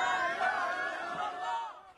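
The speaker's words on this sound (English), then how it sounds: "the surge of a crowd to help pull survivors from the rubble" Agitated crowd surging to pull survivors from rubble after an airstrike in Gaza, a dense mass of overlapping shouts and cries filling the scene at close range, with no single voice standing out.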